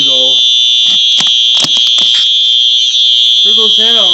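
A home fire alarm sounds close by as a piercing, continuous high-pitched tone, very loud from start to finish, with someone talking over it.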